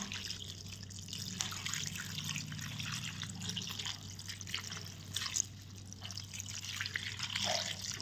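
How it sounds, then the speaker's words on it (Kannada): Buttermilk is poured over green chillies, giving a steady, soft liquid trickle and dribble that runs close and continuous throughout, without speech. "ಮಜ್ಜಿಗೆ ಮಾಡಿಟ್ಟಿದ್ದನ್ನು ಸೇರಿಸ್ತೀನಿ."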